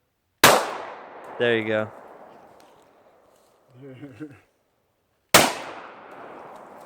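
Two sharp, loud Glock 21 pistol shots ring out outdoors at night, each a sudden crack with a short decaying echo, several seconds apart, with people talking between them.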